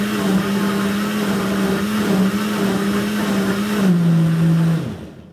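A blender whirs loudly at a steady pitch for several seconds while mixing homemade laundry soap with oil, dips slightly near the end, then winds down and stops.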